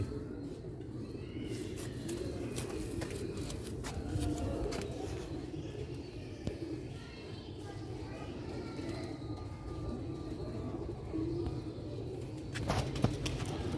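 Sialkoti black-faced pigeons coo in a steady, low murmur that keeps going throughout, with a dull background hum beneath the soft calls.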